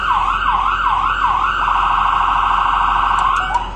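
Siren on a 2007 Road Rescue ambulance sweeps in fast wailing cycles, then jumps into a rapid warbling yelp, loud and close with a steady engine hum underneath and a couple of brief clicks near the end.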